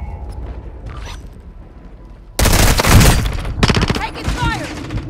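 Sudden loud burst of automatic gunfire in Call of Duty: Modern Warfare II, erupting after a quieter stretch and continuing as rapid close shots with mechanical clatter, while radio-style voices speak over it.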